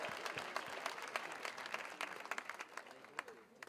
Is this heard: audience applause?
yes